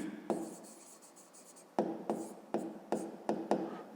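Chalk or marker strokes on a board during a math lesson, a series of short scratchy taps and rubs, quiet and close, coming in a loose rhythm after a pause.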